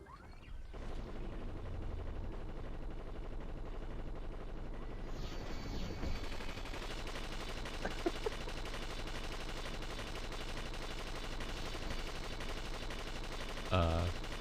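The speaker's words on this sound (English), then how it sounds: "Good news, the SMG works. It's still firing." An SMG firing in Fortnite, rapid automatic gunfire as a steady burst early on, then the game's background soundscape continues with a few sharp clicks and a louder hit near the end.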